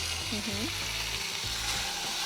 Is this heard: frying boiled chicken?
yes